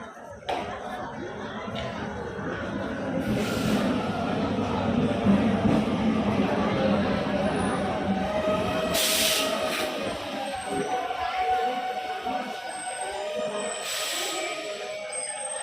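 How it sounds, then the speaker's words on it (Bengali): A Lalgola-line train from Sealdah rolls into Murshidabad station with a steady low rumble and faint squeals, under the busy murmur of a crowded platform with people chattering nearby. "এই ট্রেন ঢুকছে"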